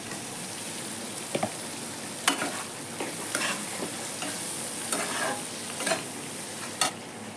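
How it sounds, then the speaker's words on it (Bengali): Fried potatoes are stirred into a spice masala sizzling in released oil. A dense, hissy sizzle runs throughout, with a handful of scattered scraping stirs on top, close up and with no voices. "মশলা থেকে তেলটা ছেড়ে গেছে এখন দিয়ে দেবো ভেজে রাখা আলু"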